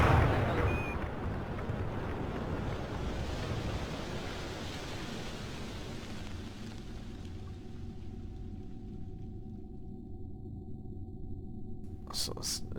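A rocket engine fires during a Mun landing in Kerbal Space Program, a loud hissing roar that starts strongly, then thins out into a steady low rumble with a faint hum, ending in a couple of sharp clicks.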